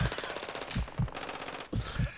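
Rapid automatic gunfire from the Call of Duty: Warzone 2.0 video game, several sustained bursts with heavy thumping impacts, fairly loud and continuous.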